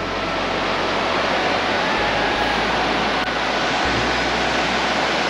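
Trishuli river in Nuwakot rushing past, a loud, dense, continuous roar of flowing water heard close and unbroken.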